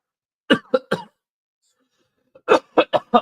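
Hoarse coughing from someone still recovering from a cold, three sharp close coughs, a pause, then a second burst of four, loud against a silent background.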